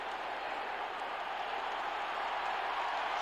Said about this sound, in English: Standing ovation for the Lions.